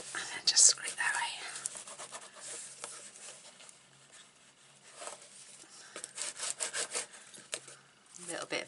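A bone folder scrapes across paper while creasing pages in a 4x4 animal-themed craft album, giving soft dry rubbing strokes near the mic, with a quieter lull in the middle before the strokes return.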